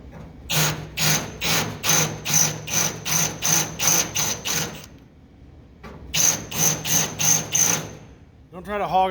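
A drill bit boring into wood in short repeated bursts, a steady run of about a dozen pulses, a pause, then another burst of pulses, loud and close.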